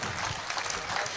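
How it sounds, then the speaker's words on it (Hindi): An audience at a Rotary Club comedy poetry gathering claps in a dense, steady burst of applause throughout. "तालियां बजा दीजिए आप।"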